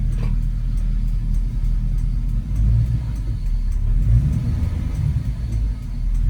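An LS-swapped 1966 Chevrolet C10 with a likely blown transmission rumbles and revs while stuck without forward gear, a loud, low, uneven engine drone close by for several seconds.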